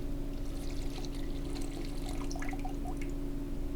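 Liquid WD-40 rust remover is poured into a bucket with a steady gush and splashing, while small drips and droplets patter throughout.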